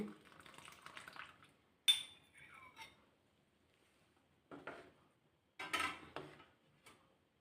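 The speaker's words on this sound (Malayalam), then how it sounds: "നമുക്ക് തേങ്ങ ഒന്നാം പാൽ ഒഴിക്കാം" First coconut milk is poured into a pot of wheat payasam, giving short liquid splashes and clinks of a utensil against the vessel in a few separate bursts with quiet gaps between.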